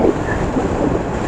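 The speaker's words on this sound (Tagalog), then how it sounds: "lakas na ng hangin" Strong wind buffeting the microphone along a coastal mountain road, a loud rough continuous rumble with no speech over it.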